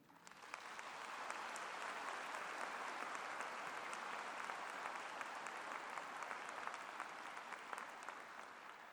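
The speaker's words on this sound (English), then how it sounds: "give yourselves, as well as your families, lecturers, and supervisors, a resounding round of applause for your achievements" A graduation ceremony audience breaks into steady, sustained applause, a broad wash of many hands heard at a distance in a large hall, rising quickly and holding evenly throughout.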